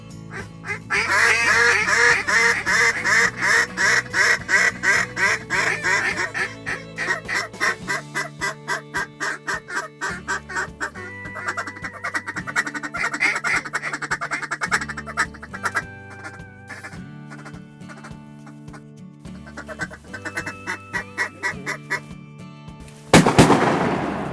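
A large flock of pintail ducks calls and quacks loudly and continuously during a duck hunt in Tennessee, layered with steady droning tones, ending in a sudden sharp burst.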